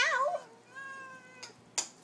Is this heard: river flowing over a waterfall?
no